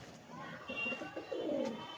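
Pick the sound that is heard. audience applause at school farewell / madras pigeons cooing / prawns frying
madras pigeons cooing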